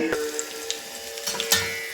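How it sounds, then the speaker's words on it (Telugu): Tempering spices crackling and sizzling in hot oil for curd rice, a steady close fry with a few sharp pops and stirring clicks. "పోపు పెట్టేస్తున్నానండి పెరగన్నానికి"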